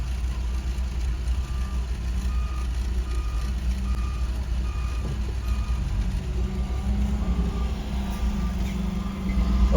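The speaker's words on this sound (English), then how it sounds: "We're reversing now because there was nobody in there." Truck reversing at a toll area in Mexico, its steady repeating backup beeps sounding close over a continuous idling engine rumble, with no talk.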